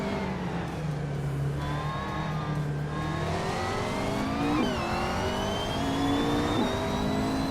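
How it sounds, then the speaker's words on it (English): Race cars roar and accelerate together at the start of a race at Circuit of the Americas, a dense, loud wall of engine noise with rising pitches as the pack pulls away. "the race is on at Circuit of the Americas, and leading the pack from the very start is Pumpkin Knopflery"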